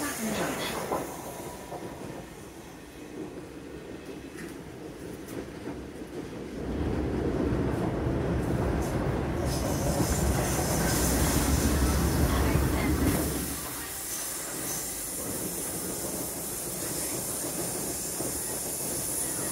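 A Southern passenger train runs from London Victoria toward Clapham Junction, its steady rolling rumble swelling louder in the middle with rattling wheels and a hiss, then easing back to a constant cabin drone.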